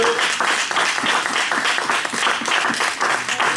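Worshippers in a church applaud in praise, a loud continuous wash of clapping with rhythmic peaks and faint voices underneath.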